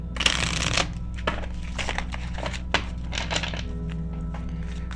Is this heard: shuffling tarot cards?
yes